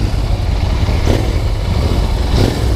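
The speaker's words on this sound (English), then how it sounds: "He is enjoying the throttle rev." Royal Enfield Continental GT650 twin-cylinder motorcycle rumbling steadily near the microphone, with two brief throttle blips rising over the idle.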